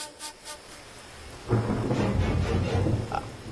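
A couple of soft isolated knocks give way to a sudden heavy downpour outside with a low rumbling thunder roll, steady rain hiss and rumble continuing without speech.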